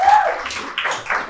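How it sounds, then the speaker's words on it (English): Audience at a launch event applauding a wine donor, a brief round of clapping under a voice speaking. "So big round of applause for Amy."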